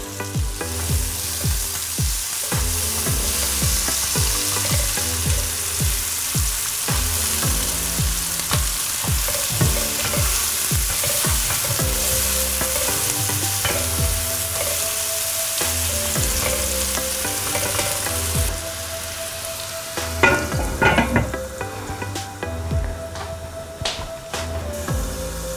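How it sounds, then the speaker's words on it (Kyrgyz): Chopped onions frying in plenty of oil in a pan, a continuous loud sizzle broken by repeated scraping stirs, later quieter with a few clinks, no talk. "Суюк майга эле ошол пияз союздерди кууруп алабыз."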